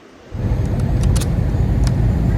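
A car engine rumbles steadily and close after a quiet start, a continuous low drone with a few faint clicks above it and no talking.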